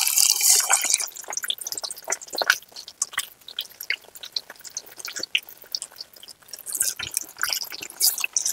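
Fish pieces dropped into hot oil, crackling and sizzling steadily with dense popping and spitting throughout, close and fairly loud, with no talking.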